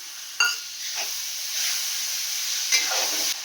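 Ginger, garlic and chili paste sizzle in hot oil with onion and tomato, a steady close frying hiss broken by a few sharp stirring scrapes, with no talking.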